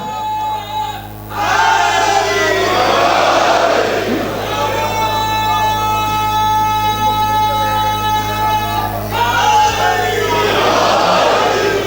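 A large gathering at a religious sermon bursts into loud, massed chanting of slogans in two long waves, swelling and fading, with a brief lull between them and voices roaring together up close.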